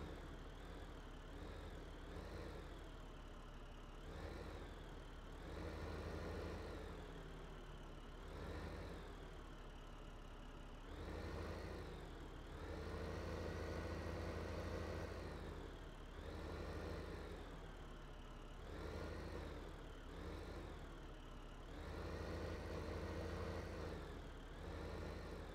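In Farming Simulator 15, a New Holland tractor engine drones steadily and quietly, rising and falling in regular surges as if revving while stuck on a stump.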